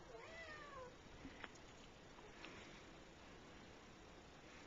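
A cat meows softly a couple of times, faint and close under a steady background hiss, with no talk over it.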